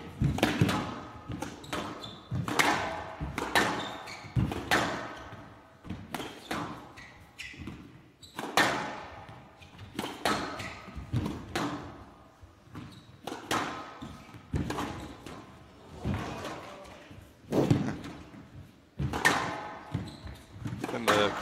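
Squash ball struck again and again during a long, open rally at the PSA Women's World Championship 2017, each sharp crack echoing off the court walls in an uneven rhythm, with squeaks and thuds between shots.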